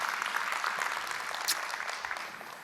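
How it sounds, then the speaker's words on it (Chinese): An audience breaks into applause, a steady wash of clapping at moderate distance that holds for a few seconds and slowly tapers, with no voices over it. "先给日本这个国家一个掌声"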